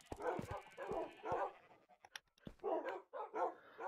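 Several Minecraft dogs bark in rapid overlapping bursts, loud and close, pausing briefly midway before the barking resumes in quick succession.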